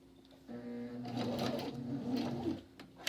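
A sewing machine stitches a fabric face mask seam in a short burst of fast, even mechanical whirring. It starts after a brief quiet moment and runs close and fairly soft for about two seconds.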